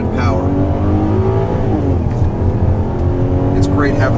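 A 2010 Cadillac SRX accelerating, its engine note droning steadily underneath as someone talks over it from inside the cabin.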